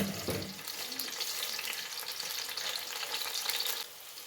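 Chopped ginger and garlic hit hot oil with a bright, steady sizzle that crackles on without pause, close by, with no voices.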